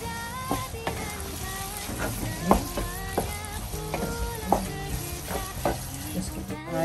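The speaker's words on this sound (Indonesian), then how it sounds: "Kita masak pulut dulu dengan santan." Glutinous rice cooking with coconut milk in a pan, a soft continuous sizzle with scattered scraping stirs and light clinks, fairly quiet and steady, no voices.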